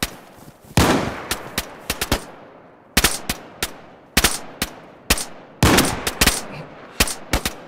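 Gunfire from the video game DayZ during night hunting: repeated sharp shots and short bursts crack out in irregular clusters, loud and close, with reverberant tails between volleys and no voices.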